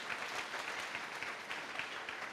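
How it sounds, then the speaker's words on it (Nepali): A church congregation clapping together, a dense, steady wash of many hands at moderate distance with no break. "ताली बजाएर प्रभुलाई धन्यवाद दिनुहोस्"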